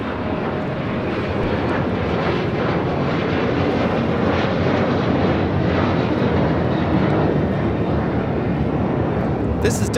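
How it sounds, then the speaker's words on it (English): A Delta Airlines Boeing 737-900ER takes off at LAX, a loud sustained roar of jet engines filling the whole stretch with a broad rumbling texture and no break. "This is Delta Airlines 1875 taking off to Los Cabos on a 737-900ER"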